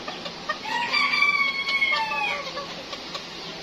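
Silver Sebright chickens cluck and a rooster crows at close range, the crow drawn out through the middle of the clip over a low background hum.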